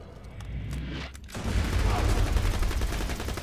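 Gunfire in the Borderlands 2 video game: a loud, dense burst of rapid automatic shots that swells after a brief pause, with players talking under it.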